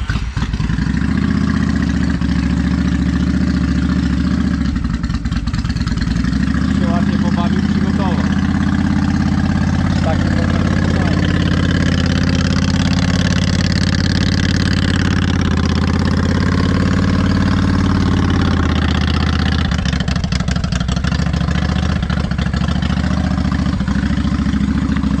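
A chopper motorcycle engine runs loudly and close by, holding a steady, throbbing idle with slight swells throughout. People talk over the engine noise.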